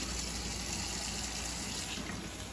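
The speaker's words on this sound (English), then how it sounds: "now I'm going to turn the water on" Water tap running steadily into a portable countertop dishwasher, a constant close hiss of flowing water with no talk.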